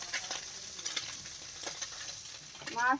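Khoira fish fry in a pan of hot oil, a soft, fairly quiet sizzle with light crackles across a few seconds, ending in a brief louder burst.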